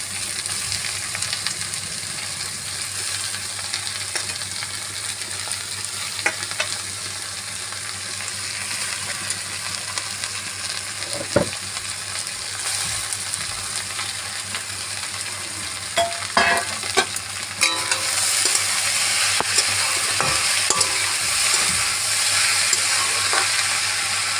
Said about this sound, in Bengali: এবার সব আলুগুলো ছেড়ে দিলাম।